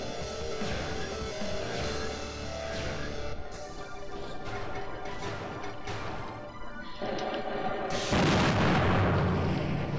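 Enemy robo gunfire in the game Custom Robo: Battle Revolution lands as a run of loud, crashing, booming impacts. A large, bright blast hits near the end.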